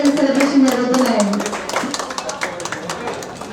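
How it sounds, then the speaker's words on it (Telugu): Shop staff clap together at a cake celebration marking a jewellery store's first anniversary in Kadapa, a quick run of sharp claps underneath a person speaking. "అందరూ స్టాఫ్ మీరు కూడా క్లాప్స్ కొట్టాలి."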